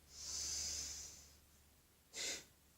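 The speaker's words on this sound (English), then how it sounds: "we're going to inhale through the nose, and then we're going to contract the stomach like this." Yoga breathing exercise: a long, steady breath of about a second, followed by a short, sharp forceful exhale through the nose as the stomach contracts, close and fairly quiet with no talk.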